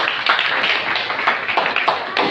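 A congregation claps during a church sermon, a dense, steady wash of many hands applauding together at close range, with no break over the short stretch.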